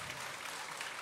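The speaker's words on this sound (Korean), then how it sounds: "박수 한번 이럴 때" An audience at a matinee concert in a hall claps together in a brief, dense burst of applause, even and steady throughout.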